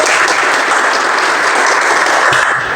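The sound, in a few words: children clapping in class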